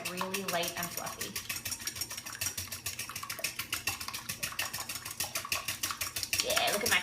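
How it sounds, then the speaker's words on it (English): Eggs whisked in a bowl by hand: rapid, steady metallic ticking of the whisk against the bowl, close and continuous for several seconds. "you are going to whisk these eggs, and you want to whisk them for about a minute until they get really light and fluffy"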